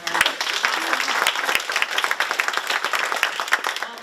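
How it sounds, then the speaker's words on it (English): Audience applause for newly introduced colleagues at a quarterly company meeting, a dense, steady spatter of many hands clapping close by for about four seconds. "So please give a round of applause for all of our."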